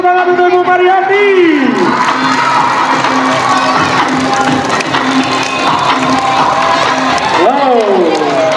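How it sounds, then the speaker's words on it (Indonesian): Audience at a Heroes' Day fashion show clapping and cheering steadily throughout as a model is called out, with shouts from the crowd and an amplified voice calling out over the applause at start and end. "Beri tepuk tangan untuk Ibu Mariati."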